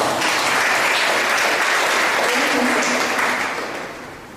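Audience applause at a Ghanaian community gathering in Tripoli, Libya, with steady, dense clapping that holds for several seconds before tapering off toward the end.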